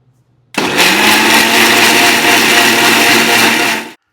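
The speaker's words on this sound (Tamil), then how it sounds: "வெங்காயத்தை வந்து ஒரு கிரைண்ட் பேஸ்ட்டாக அரைச்சிக்கலாம்" An electric mixer grinder whirs at full speed, grinding onions into a paste for a chicken gravy, starting abruptly and running as a loud, steady motor whine for over three seconds before cutting off.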